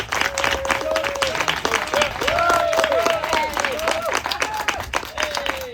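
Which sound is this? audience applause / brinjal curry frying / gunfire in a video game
audience applause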